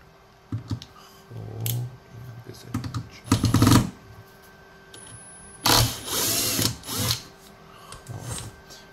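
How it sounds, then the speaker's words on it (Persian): A cordless drill backs out screws from an Antminer S19 Hydro crypto miner, sounding as two close, whirring bursts, one short and one longer, with quieter clicks and handling noise between them. "زمانی که دارید با دریل های شارژی کار میکنید، میخواید پیچ ها رو باز بکنید"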